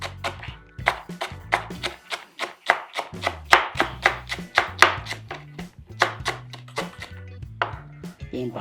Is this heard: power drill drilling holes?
no